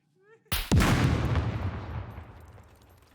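An explosion kills a zombie in the video game SCUM. One sharp loud blast is followed by a second bang and a long rumbling decay, preceded by a faint brief voice.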